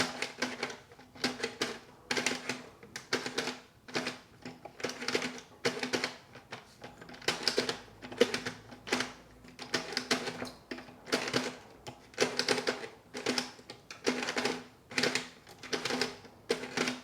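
Sentro 22 plastic circular knitting machine cranked by hand, a rapid clattering of needles in rhythmic bursts, each turn a cluster of clicks with short pauses, close and fairly loud.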